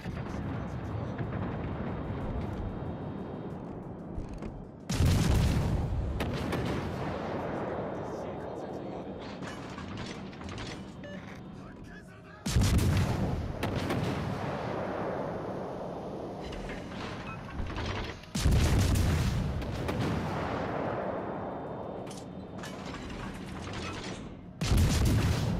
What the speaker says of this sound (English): shooting over at the Brandenburg at the moment